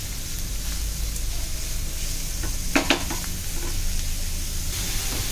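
Onions sautéing with salt in a pan hiss in a constant close sizzle, with a few brief clinks of a utensil stirring midway; no one speaks.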